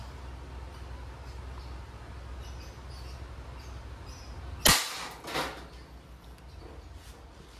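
A Hammerli Hunter Force 750 .177 break-barrel air rifle fires a single sharp crack over a low background hum, followed a moment later by a softer thud of the pellet striking.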